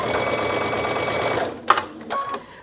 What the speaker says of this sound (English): you're going to stitch all the way around. And you're just going to do a straight stitch.